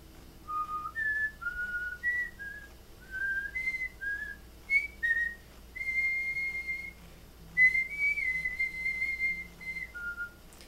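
Someone whistles a tune from the Kingdom Hearts video game, a clear, bright melody of rising and held notes that runs for several phrases and is heard alone, with no talk.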